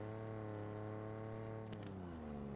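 A droning video-game car engine hums at a steady pitch, then drops lower with a brief rush of noise, close and continuous throughout.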